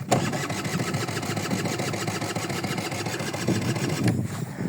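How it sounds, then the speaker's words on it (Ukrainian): A Honda Dio moped's small engine starts and runs with a rapid, buzzing two-stroke putter, a steady close idle that holds evenly before a brief change near the end. "Зараз заведемо мопеда."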